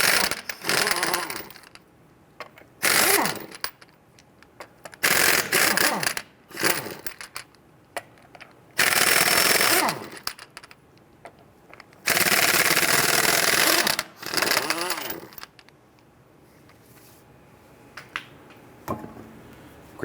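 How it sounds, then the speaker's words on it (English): Impact wrench bursts loosening and spinning off lug nuts on a 1994-2004 Ford Mustang with a 19mm socket, several loud buzzing runs of a second or two separated by clicks, clanks and short pauses. "Using a 19mm socket, loosen and remove your lug nuts."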